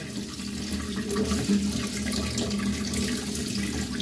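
Water draining and dripping off freshly washed groceries, a steady, close trickle with light splashes running throughout.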